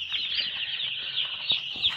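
Broiler chickens crowd a poultry farm shed with a constant high chirping chatter, broken by a few soft thumps and brief wing flaps, steady and moderately loud with no voices.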